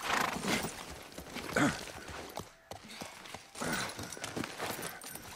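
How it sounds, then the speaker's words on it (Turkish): Horse hooves clip-clopping in The Last of Us Part 1 video game, a soft, steady run of hoof falls mixed with faint creaks and game ambience, heard without speech. "Atı buraya getir."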